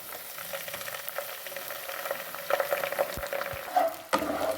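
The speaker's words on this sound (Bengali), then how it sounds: "আদা রসুনের পেস্টটাকে আমি ভালো করে একটু ফ্রাই করে নিই" Ginger-garlic paste fries in a hot pan with a steady, moderately loud crackling sizzle, broken by a few scrapes and clinks of a spoon toward the end.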